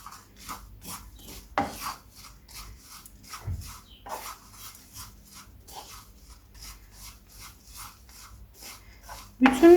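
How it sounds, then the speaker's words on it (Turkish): Cookie dough with dates and cinnamon gets stirred in a bowl: repeated scraping, rubbing strokes in an uneven rhythm, close and moderately loud, ending in a louder knock. "Şimdi bunu iyice karıştırıyoruz"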